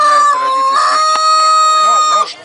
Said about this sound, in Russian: по массе чувствуется, вот, держу, что он такой тяжелый петух